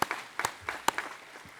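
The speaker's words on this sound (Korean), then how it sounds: "영광의 박수를 하나님께 드리겠습니다." Sparse handclaps from a church congregation during a Korean Sunday worship service: a thin handful of separate, fairly quiet claps scattered irregularly over a brief moment, with no talking.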